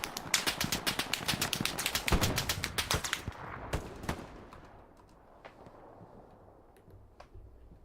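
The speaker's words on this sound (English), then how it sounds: "Will Scott supply some suppressive fire over there." Suppressive gunfire in the World War II shooter Hell Let Loose in the streets of Carentan: dense rapid bursts of automatic fire, loud and close at first, then thinning to scattered distant shots over a low rumble.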